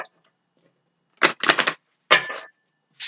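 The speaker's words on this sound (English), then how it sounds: "Give it a couple shuffles." A deck of Major Arcana tarot cards is shuffled a couple of times, giving short bursts of crisp riffling and flicking separated by silences, close and fairly quiet, with no talk.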